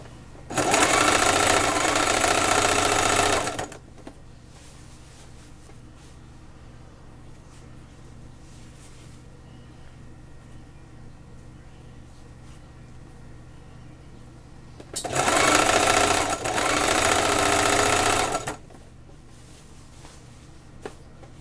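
A sewing machine stitching a skirt, running in two close, loud bursts of rapid steady whirring a few seconds each, separated by a long quiet pause with faint room noise.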